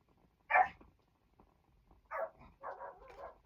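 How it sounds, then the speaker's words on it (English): A guard dog barks at a distance: one sharp bark, a pause, then a quick burst of three or four barks, standing clearly above a quiet room. "that's my dog being a guard dog."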